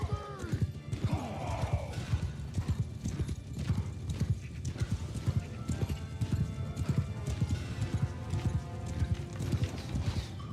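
Bretonnian cavalry horses move forward in a video game battle, with a dense, steady clip-clop of many hooves, occasional whinnies and clanks, loud and continuous throughout.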